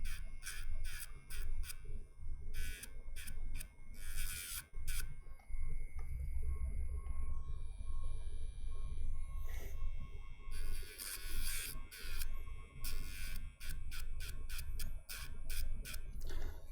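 Dremel rotary tool with a small rotary bit working on an Xbox Series X/S HDMI port, a high whine cut into rapid stop-start pulses over a low hum, close and steady with a longer continuous run in the middle.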